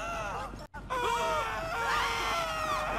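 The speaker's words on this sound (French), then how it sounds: "Pourquoi tout le monde crie?" A crowd of people scream and wail continuously in a metro station in the video game GTA 5, with many overlapping high-pitched voices that drop out briefly before resuming loudly.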